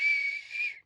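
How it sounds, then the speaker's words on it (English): A person whistles one short, steady high-pitched note that wavers slightly and then cuts off abruptly, close and clear with no talking. "Sure, I know how to whistle."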